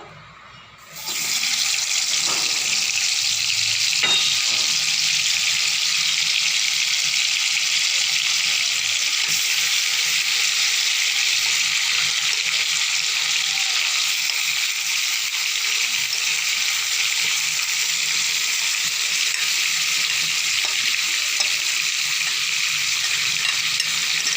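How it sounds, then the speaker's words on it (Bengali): Marinated chicken for dhaniya chicken hitting a hot pan, then a loud, continuous hissing sizzle that stays steady and close for over twenty seconds without any talk. "এবারে ম্যারিনেট করা চিকেনটাকে দিয়ে দেবো"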